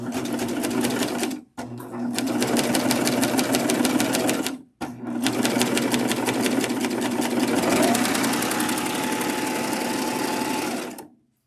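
A serger sewing quilt binding hums and clatters in long fast bursts, stopping briefly twice before running on steadily to the end.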